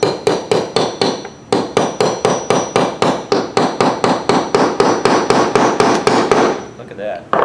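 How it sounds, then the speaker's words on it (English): Steady hammer blows drive nails into the four sides of a wooden picture frame, about three sharp strikes per second in a loud, continuous run that stops near the end. "once you're finished nailing in all four sides"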